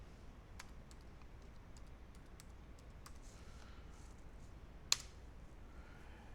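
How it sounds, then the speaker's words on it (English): Terminal command keys tapped on a computer keyboard, a handful of sparse, soft clicks over a steady background hiss, with one sharper keystroke near the end. "you can just type in hard info here in the terminal"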